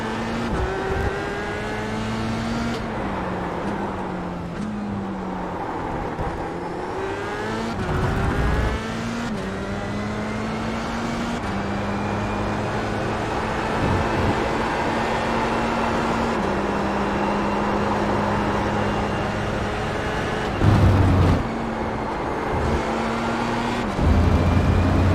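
A GT4 race car engine in a racing video game holds steady tones and shifts pitch in stepped runs as gears change, with several rev drops and downshifts across a long, continuous stretch.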